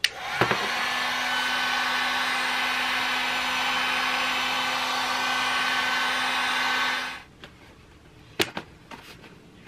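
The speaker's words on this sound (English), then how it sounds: "I'm going to just heat up the lid, the plastic on the lid a little bit" A heat tool warming the plastic lid of a quail feeder blows with a steady, close hiss and hum for about seven seconds, then shuts off, followed by a few light clicks and handling knocks.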